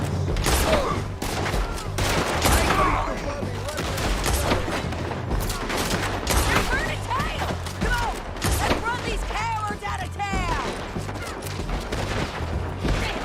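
Gunfight in the Western game Red Dead Redemption II: dense, rapid bursts of gunfire crack continuously at close range while voices shout over the shooting.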